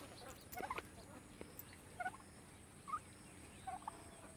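Turkey hens give several short, faint clucking calls at intervals against quiet outdoor background noise beneath fig trees.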